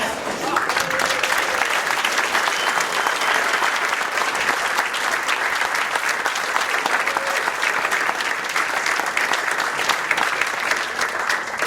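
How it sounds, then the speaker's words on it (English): A dense, steady ovation fills the room for an Anzac quilt recipient at a Mount Maunganui RSA presentation, continuous clapping from a large crowd lasting the full stretch without a break. "give a round of applause to the recipient"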